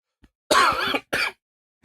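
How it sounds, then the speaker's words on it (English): Two harsh, close coughs in quick succession, the first longer and raspier, with silence around them, during Minecraft play. "Just a couple more coughing."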